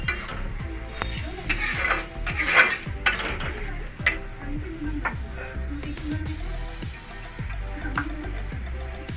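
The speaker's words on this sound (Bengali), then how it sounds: "টমেটোর পেস্টটাকে ভালো করে কষাবো যতক্ষণ টমেটোর পেস্ট কষে ভালো করে তেল না বেরোচ্ছে ততক্ষণ কষাতে থাকবো" Tomato paste cooking down in oil in a pan, with a soft sizzle under frequent metal scrapes and clinks as a spoon stirs steadily and rhythmically against the pan.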